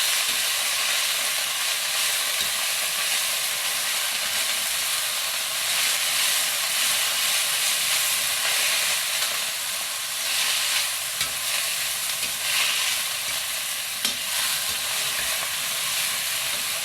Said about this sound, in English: After the bean sprouts go into the pot, stir fry them quickly over high heat.